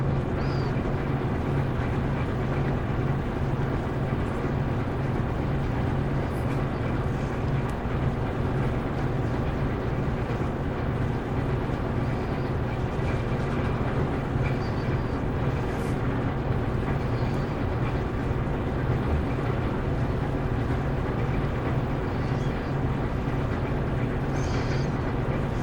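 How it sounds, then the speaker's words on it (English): A loud home furnace roars steadily and continuously, a deep, dense rumble like a locomotive with no breaks or variation throughout. "my furnace is loud, it kind of sounds like a locomotive"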